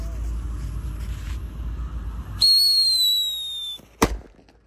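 A Wasteland King Thunder firecracker goes off: a loud hissing burst, then a bright rising whistle for about a second and a sharp crack near the end, with voices heard faintly.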